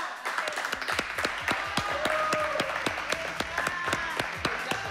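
Studio audience clapping on a cooking show, crisp individual claps standing out over a continuous applause bed, with voices talking faintly underneath.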